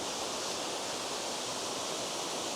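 Tianna Falls waterfall heard up close, a broad continuous roar of rushing water that stays loud and unchanging, with no voices or other sounds.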